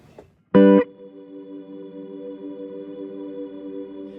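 A bright, distorted guitar chord strikes once through a Line 6 Helix, then fades into a shimmering, wavering particle reverb pad that swells and hangs on softly.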